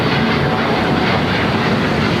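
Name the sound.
Qantas Airbus A350-900 jet passing at LAX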